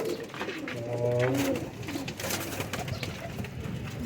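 Pigeons kept for breeding pairs coo in soft, throaty, repeated phrases, close by, over a steady background hiss with a few faint chirps.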